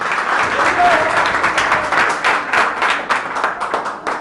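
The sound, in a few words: students applauding at a college seminar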